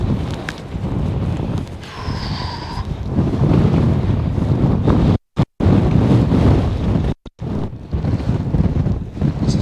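Strong wind buffets the microphone on an exposed, cloudy Scottish mountain (Beinn Heasgarnich Munro), a loud continuous roar with gusts and a couple of abrupt dropouts, no voices.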